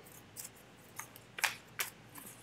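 A deck of cards being shuffled, a few crisp papery riffles and snaps in quick irregular bursts, close and fairly quiet.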